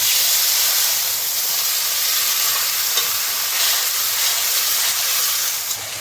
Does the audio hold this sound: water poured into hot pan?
yes